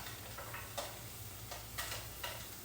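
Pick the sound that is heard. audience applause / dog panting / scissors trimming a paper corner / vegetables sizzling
vegetables sizzling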